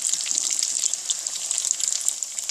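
Egg fingers frying in hot ghee give a steady bright sizzle and crackle, close up and fairly loud, continuing evenly with no talking.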